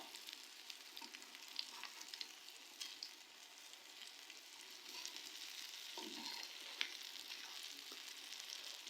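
Chicken shami kababs frying in oil after being flipped, a faint continuous sizzle with light crackles and one brief clatter near the end, no talking.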